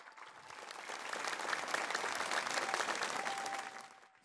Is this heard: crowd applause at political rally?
yes